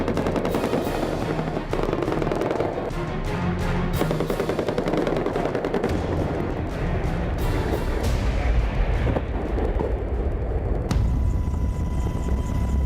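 A US Army military helicopter roars steadily, loud and close, mixed with bursts of rapid machine-gun fire and heavy blasts during an attack on a Taliban hilltop position in a mountain area.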